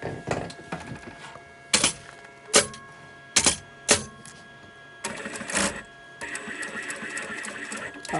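A sewing machine stitches a safety seam on a quilted crossbody backpack in stop-start bursts, with sharp clicks and clacks between short runs of whirring.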